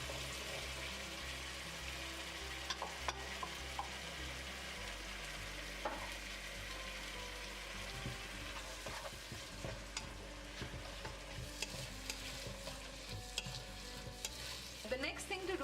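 Peas stirred into tomato frying in a pan for peas pulao, a steady close sizzle with scraping spoon strokes and small clinks throughout.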